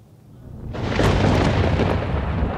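Thunder from a Kalbaishakhi storm in Bangladesh after intense April heat: a quiet start, then a loud, broad rumble that swells in just before the first second and rolls on steadily to the end.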